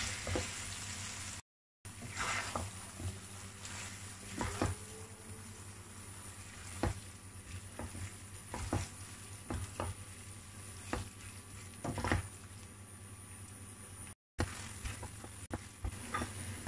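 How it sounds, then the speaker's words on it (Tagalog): Homemade Italian-style spaghetti sauce sizzling quietly in a pan as it is stirred, a soft continuous fry broken by scattered clinks and scrapes of a utensil, with a low background hum. "Tuloy lang yung halo."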